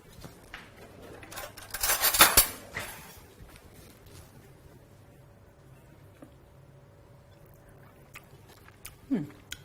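A short close burst of biting and chewing while someone tastes freshly blended basil pesto, loudest early on, then quieter mouth sounds over faint background noise, with no talk.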